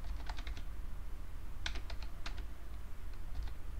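Computer keyboard keys tapped in two quick bursts of clicks, a password being entered, close and moderately loud over a steady low hum, with a pause between the bursts and no voices.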